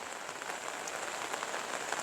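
Steady rain falls over a rural home and nearby rice paddies on an overcast day, a constant dense patter on surfaces with no talk.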